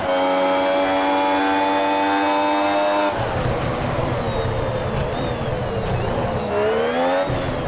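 Formula 1 race cars launch from the start at Monza's Italian Grand Prix in the F1 Mobile Racing game: a high engine whine holds steady, then cuts into a dense, rising roar of several cars accelerating together.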